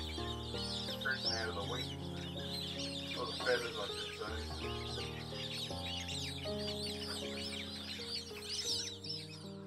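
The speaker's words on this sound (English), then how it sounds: "Magpie geese also made their presence known." Magpie geese honking and calling among wetland birds on muddy flats, repeated calls layered over steady background music, fairly clear and close.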